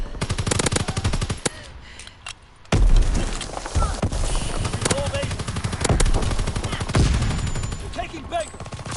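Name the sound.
artillery and gunfire in a PS4 video game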